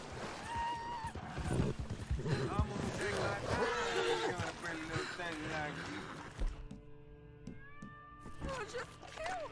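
A horse in the video game Red Dead Redemption 2, spooked by alligators, whinnies amid busy game sounds and hoof noise, while characters talk.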